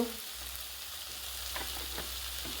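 Grated onion frying in oil with spices for a kohlrabi and katla fish dish, a steady, even sizzle with a few soft stirring scrapes and no talking.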